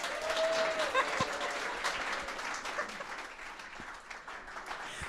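A pub audience at a books event welcomes an author with warm applause, dense clapping that begins loud and gradually thins over several seconds, with a few voices mixed in.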